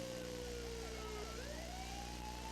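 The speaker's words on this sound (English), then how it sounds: "Sirens are coming here, Lo." Police siren wailing steadily, its pitch sweeping up and down over a continuous engine drone, sounding fairly close and unbroken.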